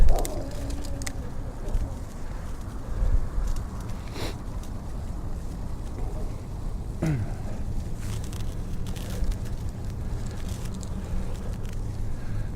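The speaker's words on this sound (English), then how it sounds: "Hey, birds." Birds, likely pigeons or doves, cooing outdoors during a walk to work, soft and somewhat distant over a steady background hum, with a few brief knocks and no talking.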